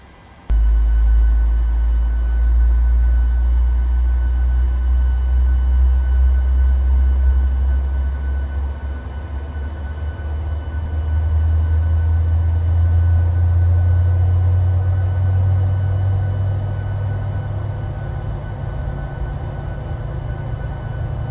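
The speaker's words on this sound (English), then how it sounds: "we have a good start on engine 2" A PMDG 737-700 airliner's number 2 engine spools up in a flight simulator, a loud steady low roar and whine that rises in pitch partway through and holds, with no talking.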